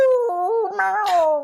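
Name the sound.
person imitating a cat-dog animal sound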